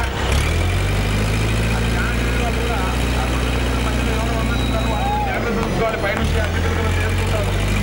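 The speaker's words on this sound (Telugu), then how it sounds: "డ్రైవర్ గారు ట్రాక్టర్ కూడా ముందుకు వెళ్ళిపోవాలి." A tractor engine idles steadily and loudly at a Ganesh idol immersion, its low rumble continuous under a voice speaking over a loudspeaker, with a brief dip near the end.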